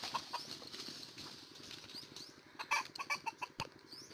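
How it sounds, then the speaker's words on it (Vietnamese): Wild junglefowl in Ninh Thuan, Vietnam, being chased: bursts of rapid wing flapping mixed with sharp clucks, close and fairly loud, with a flurry of quick beats near the end. "Pha đuổi gà quá ngộ mục."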